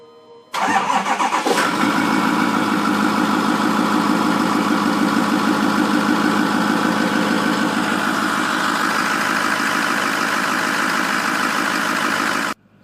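A Ford 6.4L Powerstroke diesel engine that had a no-crank fault cranks briefly, fires and settles into a steady, loud idle that runs without a break, with no talking.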